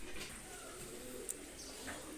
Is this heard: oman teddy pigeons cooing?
yes